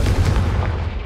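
A Confringo spell explosion in Hogwarts Legacy, one loud, deep, booming blast that rumbles briefly and fades, with no talk.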